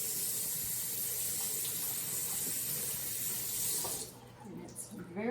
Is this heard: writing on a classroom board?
no